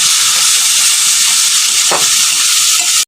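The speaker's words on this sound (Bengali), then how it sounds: "কাঁচা লঙ্কা আর রসুন বেটে রেখেছিলাম, এটাকে এখন আমি দিয়ে দেবো। এর সাথে আমি মশলাটাকে কষিয়ে নেব।" Spices frying with green chili and garlic paste for prawn malai curry, a loud, close, continuous hissing sizzle with a single stir scrape midway, cutting off abruptly.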